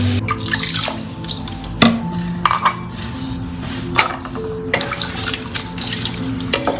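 Water is poured into a cooking pot holding rice and vegetables for pulao, splashing and trickling up close with uneven surges, plus a few sharp clinks of the pot or utensil, and nobody talking.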